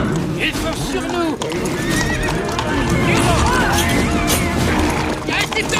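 Horses neigh and whinny repeatedly over loud galloping hoofbeats in an action film chase, with shouting voices and a crash mixed into a dense, busy scene.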